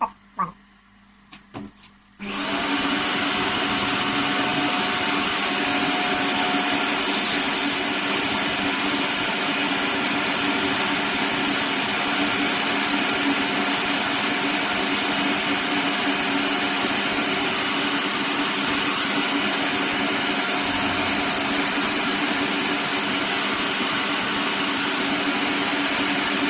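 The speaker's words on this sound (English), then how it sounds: "I'm going to see whether we can come down to size with a bit of sandpaper" A 20p puzzle ball spins against sandpaper on a turning machine, a loud, steady abrasive whir and hum that starts after a few faint knocks and carries on unbroken to the end.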